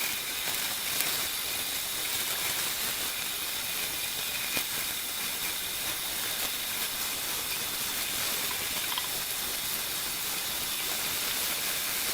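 Running water rinses out an ice-dyed tie-dye shirt, a steady, close hiss of spray and splashing that holds even throughout with no pauses.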